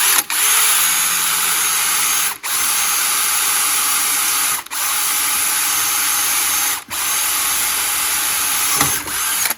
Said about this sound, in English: I'm gonna drill through the center with this small drill bit